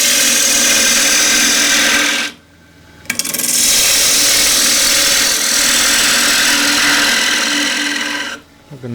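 Loud, steady grinding and scraping of a 3/8 bowl gouge cutting a square wooden plate on a spinning lathe, stopping briefly twice before resuming.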